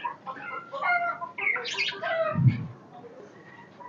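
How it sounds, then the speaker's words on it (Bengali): Cockatiels, lovebirds and budgerigars at a bird farm give a chorus of chattering squawks and chirps, overlapping and moderately loud, with one brief low thump partway through. "কোকাটাল পাওয়া যায় তারপর লাভবার পাওয়া যায় বাজরিগার পাওয়া যায়"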